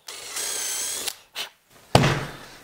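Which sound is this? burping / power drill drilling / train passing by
power drill drilling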